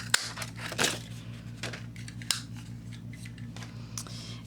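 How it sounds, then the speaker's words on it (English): A craft punch snaps through paper to cut out small petal-shaped flowers, giving a few sharp, separate clicks close by in a quiet room. "I'm going to punch out 2 flowers in Watermelon Wonder"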